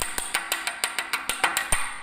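A chipping hammer knocks slag off a fresh weld bead, about a dozen sharp metallic raps in a quick, fairly even rhythm, close and loud with no talking.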